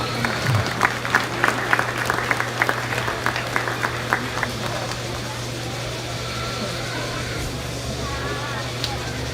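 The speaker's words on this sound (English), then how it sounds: "let's go ahead and give these three exhibitors a round of applause" Audience applause for three hog show exhibitors at a livestock event, a steady wash of clapping with a low constant hum underneath.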